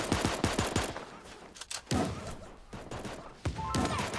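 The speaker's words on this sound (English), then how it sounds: "and then someone decides to shoot at him" Video game gunfire from dual pistols, rapid overlapping shots in quick bursts with a few heavier thumps, loud and close with game effects behind.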